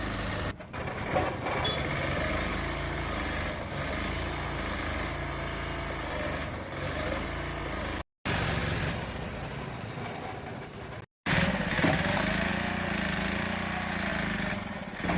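A motorized splitting machine works through hard tamarind firewood, giving a loud, steady engine drone with grinding texture, broken by two abrupt short gaps.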